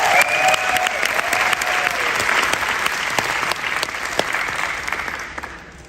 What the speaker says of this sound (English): give a round of applause for this new product